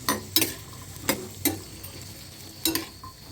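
Onions, garlic and ginger fry in oil for a Karnataka-style village mutton curry, with a soft sizzle under several sharp scrapes of a spoon against the pan at irregular intervals, and no one speaking.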